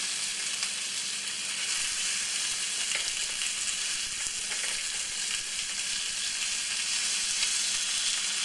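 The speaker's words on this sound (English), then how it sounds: "we'll take these chops and we'll just put them on the skillet" Pork chops sizzle in olive oil on a hot skillet, a steady, close, even crackle and hiss that holds unbroken from start to finish with no talk.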